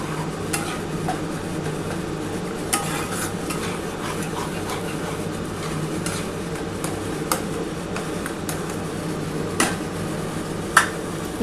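A Bengali fish curry broth (bhola macher jhal) simmering in a pot, giving a steady low bubbling and sizzling hiss throughout, with a few faint clicks and utensil taps scattered over the continuous boil.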